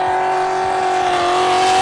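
A garage-built F1-style race car accelerates hard at a racing and drifting festival at PBIR, a loud, steady high engine whine climbing slightly in pitch for about two seconds, close by and with no talk.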